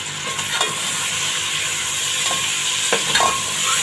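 Ground tomato hitting meat frying in a pot for kabli pulao, giving a dense, continuous sizzle close by, with occasional stirring scrapes and clinks.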